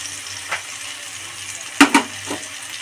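Tomato with cumin and coriander powder frying in a pan, a soft steady sizzle with a few sharp clinks of a utensil against the pan near the end.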